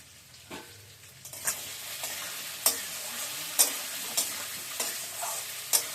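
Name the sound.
stirring and frying mukhi kochu (taro) with spices in pan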